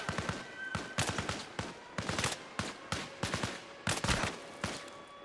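Gunfire in a video game rings out as sharp, loud bursts of rapid shots in repeated volleys, with short gaps between them and a few single cracks.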